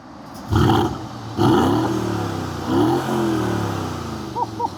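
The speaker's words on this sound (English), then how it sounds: "I gotta leave you guys with a little exhaust note action." Mercedes-AMG GLS63 V8 exhaust, several deep throaty revs rising and falling in separate bursts, loud and close, with a short pause between each blip and no talking.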